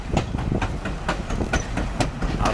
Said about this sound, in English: Here we are on the train, Grand Canyon Railroad, heading from the Grand Canyon back to Williams.